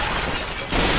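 A pot breaks in Bloodborne: steady, loud rumbling game noise gives way to a sudden crashing shatter near the end that rings on to the close.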